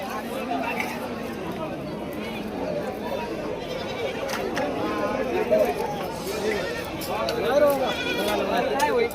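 Goats bleating at a crowded livestock market in Shirur taluka, Pune district, with the animal calls rising now and then over steady crowd chatter and nearby voices talking.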